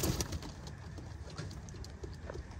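Pigeons coo softly nearby over a low background hum, with a few faint flutters and scattered bird calls.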